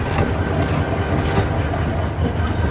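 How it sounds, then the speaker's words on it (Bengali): A train pulls into a station with a loud, close rumble, rhythmic clattering of wheels over rail joints and a faint squeal of wheels, the noise dense and continuous throughout. "গাইস দেখেন ট্রেন আসতেছে"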